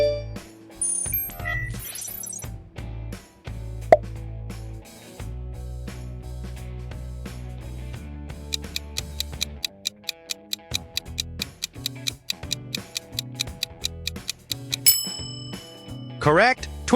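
Twitch app notification chime, a short bright electronic tone heard among a string of quick ticking and dinging app alert sounds, with clicks and brief tonal blips spread across the clip.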